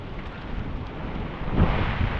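Strong wind gusts at the reverse waterfall in Sandhan valley during the monsoon, a low, roaring rumble buffeting the microphone that swells louder near the end.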